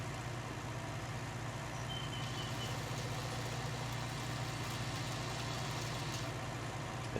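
A tractor engine idles steadily in Farming Simulator 19, a low, even, rumbling drone that stays constant and faint throughout with no talk.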